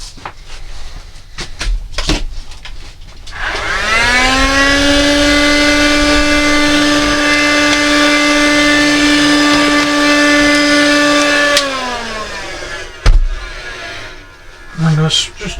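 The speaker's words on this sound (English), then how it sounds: "then hoover that mess up" A vacuum cleaner hoovers up drilling debris on a model railway layout, motor spinning up to a loud sustained whine and hum for several seconds, then winding down, with handling clicks and knocks before and after.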